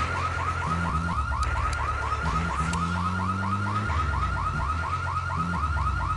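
A car alarm blares in GTA3's Liberty City, a loud, steady cycle of rapid repeating warbling tones that sounds continuously, with game music underneath.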